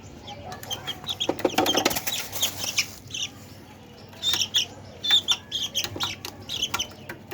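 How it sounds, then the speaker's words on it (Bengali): High, chirpy peeping from young Tiger-breed chicken chicks in rapid bursts, mixed with rustling and handling noises close by. "এটা হচ্ছে টাইগার টাইগার মুরগির বাচ্চা"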